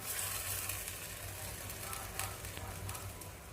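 Taro curry with wild boar dry-roasting in a pan, giving a steady close sizzle and crackle with faint stirring scrapes and no talk.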